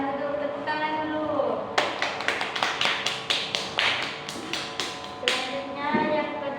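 Classroom of students clapping for a classmate during a maths lesson, a ragged burst of hand claps that starts after a moment and then thins out.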